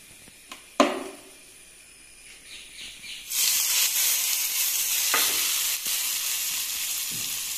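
Mustard seeds and urad dal for kara chutney splutter in hot oil: a few sharp pops, then a loud continuous hissing sizzle with occasional crackles, close and without talk.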